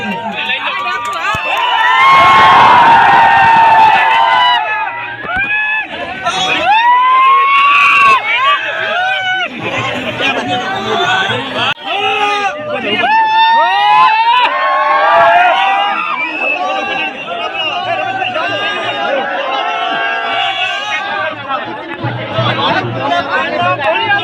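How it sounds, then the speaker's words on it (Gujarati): A large crowd at a public gathering in Diyodar cheers, shouts and chatters loudly and continuously, with excited voices rising in waves throughout. "એવા ખજૂરભાઈ માટે એકવાર ઘણા ભીડ તાળીના જે ગડગડાથી ઉડાવી લો।"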